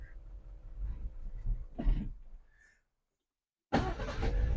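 A 1979 Subaru BRAT truck's engine runs at a steady idle, revs up briefly, then cuts to silence before the engine noise returns loud and close.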